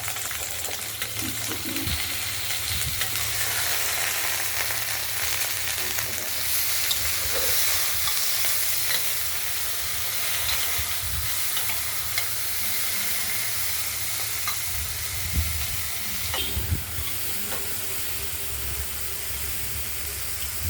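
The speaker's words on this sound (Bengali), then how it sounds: "ঢ্যাঁড়স আর আলুগুলোকে আমরা একটু ভাজা ভাজা করে নিচ্ছি।" Okra and potato pieces frying in oil with turmeric, with a steady close sizzle throughout and occasional scrapes and knocks of a spatula stirring the pan, no voices.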